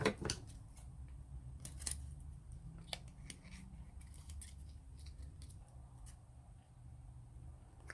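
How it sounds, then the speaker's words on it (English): Small scissors snip and trim paper for junk journal embellishments, giving quiet, close, scattered clicks and cuts against a faint, hushed background with no talking. "Just need my tiny scissors to get into that corner."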